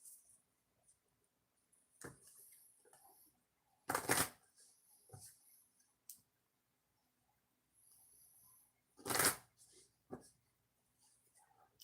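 Brief bursts of oracle card shuffling, a couple of louder riffling rushes separated by quieter rustles and pauses, close by with no talking.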